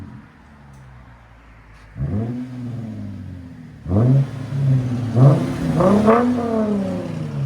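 A Lexus IS 250 2.5L with an aftermarket exhaust revs hard several times, deep throaty exhaust bursts rising and falling after a quiet idle, loud and close, reaching about 105 decibels.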